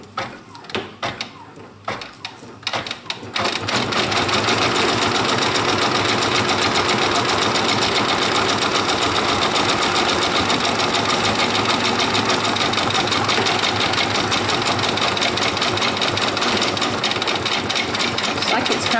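A Brother Persona PRS 100 embroidery machine starts after a few quiet clicks and then stitches in a loud, rapid, steady mechanical rattle that continues unbroken to the end.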